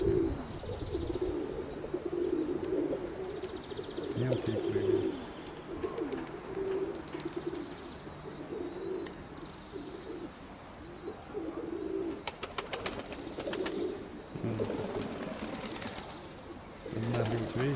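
Domestic pigeons cooing in a loft where young birds are growing up, with repeated low throaty coos from several birds at close range, occasional chirps and clicks, and bursts of wing flapping and shuffling between calls.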